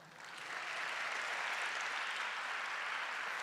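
Church congregation applause builds quickly over the first half second, then holds as a steady, dense wash of clapping from many hands with no talking.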